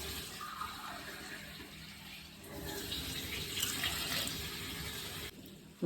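Water pours steadily into a pan holding broken pieces of jaggery, a continuous splashing stream that grows fuller and louder midway before cutting off abruptly at the end.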